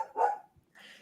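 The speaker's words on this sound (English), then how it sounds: "I think the puppy wants to speak again." A puppy gives one short bark close by, then falls quiet before a faint voice-like sound at the end.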